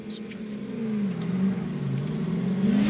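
A supercharged V8 drag race car launching and accelerating down the strip, a rising engine roar heard at a distance, fairly faint under an announcer's voice.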